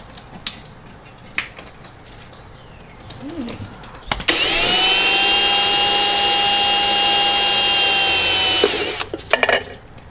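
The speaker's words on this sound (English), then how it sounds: "and then as it's drilling into the plastic" A power drill whines loudly and steadily for several seconds as it bores into a plastic meter box, preceded and followed by scattered clicks and handling noises.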